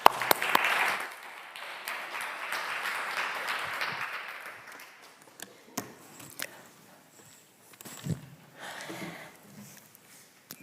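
An audience at a Women and Power event in Bergen applauds to welcome a speaker to the stage, a steady wash of clapping that gradually thins into scattered claps and quiet shuffling.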